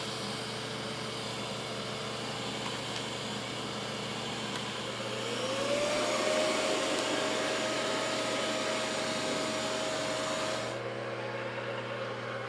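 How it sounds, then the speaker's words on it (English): Steady broadband whir of a robot vacuum motor running continuously, with a higher whine rising partway through as it revs up, then cutting off near the end. "It's not the quietest vacuum"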